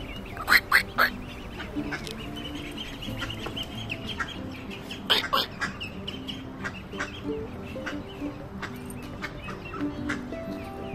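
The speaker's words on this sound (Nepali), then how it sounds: "यो हाँसको बथानहरू हेरेर" Flock of ducks in a park, loud sharp quacks in quick bursts at the start and again midway, with scattered softer quacking and clucking over a murmur of background voices.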